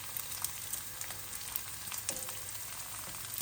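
Onions and ginger frying in a pan over high heat, making a constant bright hiss of sizzling oil with small crackles throughout, close up and uninterrupted.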